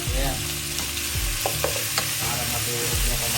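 Tomatoes sautéing in a pan for pork sinigang, a steady loud sizzle throughout with occasional spoon scrapes and stirring knocks, close up and without talk.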